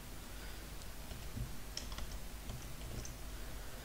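Light, quiet clicking of keys on a computer keyboard, a few scattered taps and short bursts over a steady faint background hiss, with no one speaking.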